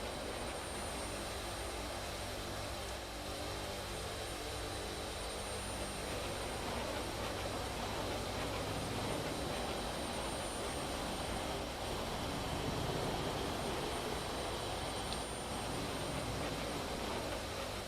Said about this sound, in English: I just love the sound of this F-22 engine too in the cockpit.